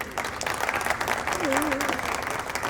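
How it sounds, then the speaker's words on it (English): Steady applause from an audience at a trailer launch event for the series Khakee: The Bengal Chapter, with brisk continuous clapping and faint voices and a tone mixed in. "Please, a huge round of applause for all of them."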